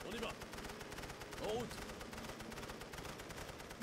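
Rapid, continuous machine gun fire in The Great War: Western Front rattles steadily throughout at moderate distance, with someone talking over the shooting.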